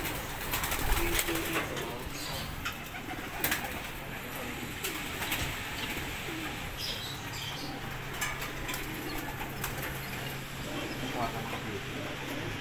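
Racing pigeons coo in a loft, with soft murmuring calls and occasional wing flutters over a constant background hum, while people talk faintly nearby.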